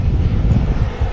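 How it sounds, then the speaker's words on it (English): Ryanair airliner taxiing at Manchester Airport, a steady low engine rumble at a distance, brief and even, with some wind noise. "Ryanair taxiing from Etihad there, ladies and gents."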